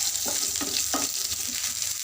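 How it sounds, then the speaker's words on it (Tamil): Chana dal fries on a low flame for radish chutney, giving a close, continuous sizzle with soft stirring scrapes throughout. "கடலப்பருப்பு போட்டுருக்கிறதுனால லோ ஃப்ளேமில் வச்சுக்கோங்க. வச்சு நல்லா ஃப்ரை பண்ணிக்கோங்க."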